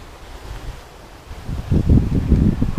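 Gusty wind buffets the microphone in low rumbling bursts, growing stronger and louder toward the end, no speech.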